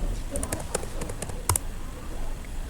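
Keys tapped on a computer keyboard while entering a router command, a short run of light clicks with one sharper tap midway, fairly faint against background hiss and a faint voice.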